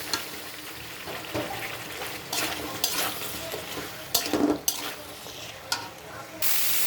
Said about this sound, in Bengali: দেখো সবজিটা সুন্দর করে কষানো হয়ে গেছে